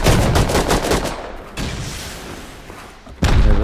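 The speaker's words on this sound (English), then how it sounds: "They're shooting rockets at me." Rockets fire in Rust, loud booming blasts and thuds with a crackling burst at the start and another heavy impact near the end, close and dominant.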